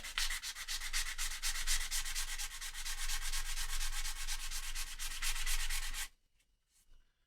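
Sandpaper rubbed by hand against guitar wood, a rapid rhythmic scratching of back-and-forth strokes held close and steady for about six seconds, then stopping into near silence with a faint touch afterward.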